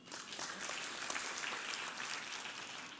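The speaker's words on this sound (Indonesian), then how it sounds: "Beri tepuk tangan" An audience gives a continuous round of applause that stays steady but sounds faint and distant, with no talk over it.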